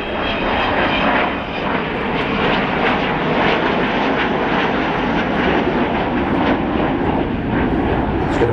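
Avro Vulcan XH558 bomber at a 2009 East Fortune airshow display, its jet engines roaring loud and steady throughout as it turns away and goes to full power, a broad continuous rumble with no pauses.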